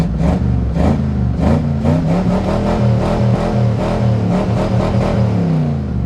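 A 1979 Ford F150 pickup with a modified 351 V8, long abandoned in a back yard, runs loudly and close by, revving in repeated pulses with a rough, throaty rumble throughout.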